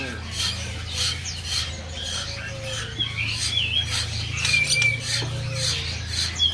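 Oriental magpie-robin (murai batu) calling inside a bird kiosk, bright chirps and short squawky whistles repeating over a steady low hum, with other birds faintly present and some speech in the background.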